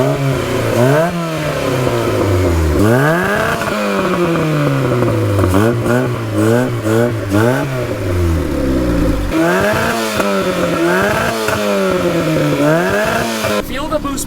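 A quad turbo Honda Civic engine revs loudly and close in repeated rising and falling sweeps, with short pauses between the pulls and a sharper burst at the very end.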